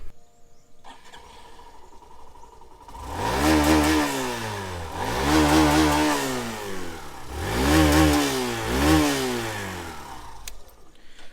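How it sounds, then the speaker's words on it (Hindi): A Hero Glamour X-Tec motorcycle engine idles, then revs up in three strong, rising bursts with a deep, throaty exhaust note, close and loud, no talking. "सबसे पहले इसका एग्जॉस्ट नोट सुन लेते हैं।"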